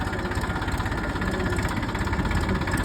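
A tractor engine idles steadily nearby, a low continuous throbbing chug with no pauses and no voices.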